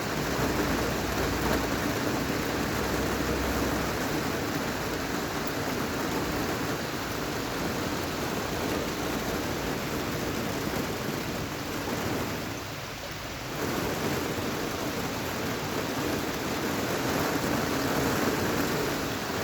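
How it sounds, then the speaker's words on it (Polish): Heavy summer rain pours steadily over Gdynia during a Genoa low, a loud, continuous dense wash of rainfall that barely dips in the middle and carries no voices. "było, ciągle pada."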